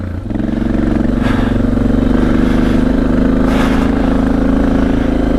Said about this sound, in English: Old Dominator R exhaust is singing through these hills.